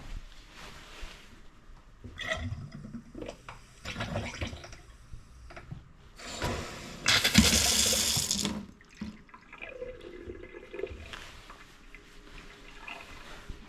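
Water gushes from a tap in bursts, surging loudly for a few seconds midway, with clattering around it and no talk.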